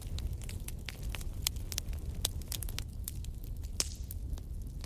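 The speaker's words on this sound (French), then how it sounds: "Et toujours bercé par ce feu de cheminée, entrez dans une détente encore plus profonde." A fireplace fire crackles softly, with scattered sharp pops and snaps over a low steady rumble, fairly faint and continuous with no voices.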